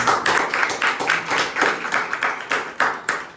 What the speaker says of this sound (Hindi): तो सभी के लिए एक बार जोरदार तालियां।